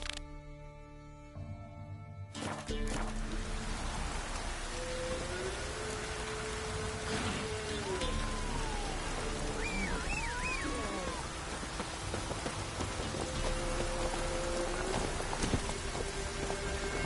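Steady rain falls in The Witcher 3 while the horse Roach trots with clip-clop hoofbeats, a continuous wash of rainfall under footfalls, with a brief muffled voice and in-game effects sounding over it.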